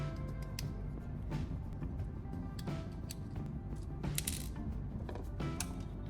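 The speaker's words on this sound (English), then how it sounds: "I'm making sure these screws are really tight." Small screws being tightened by hand into a DIY antenna plug, giving soft repeated ratcheting clicks and faint metallic ticks at close range, steady and low in level with no talking.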